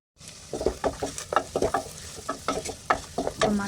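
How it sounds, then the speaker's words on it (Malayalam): Turmeric, chilli powder, garam masala and asafoetida being sautéed in a pan with a spatula, giving steady near sizzling and repeated scraping stir strokes throughout. "അപ്പോൾ അതും കൂടെ ഒന്ന് ചേർത്ത് കൊടുത്ത് നന്നായിട്ടൊന്ന് വഴറ്റിയെടുക്കാം"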